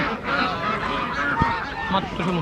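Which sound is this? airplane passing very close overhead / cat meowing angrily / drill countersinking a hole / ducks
ducks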